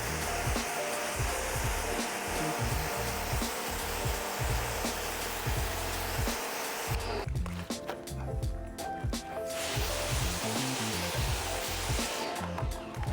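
Water rinses a dirty towel while a car is being washed, making a steady, close rushing hiss with an uneven, churning texture.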